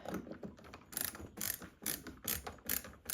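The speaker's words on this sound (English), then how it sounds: "Tighten your 2 screws back down." A ratcheting tool tightens two screws while a ceiling fan is installed, giving quick bursts of clicking pawl ratchets in rhythmic strokes, close and fairly quiet, with no speech.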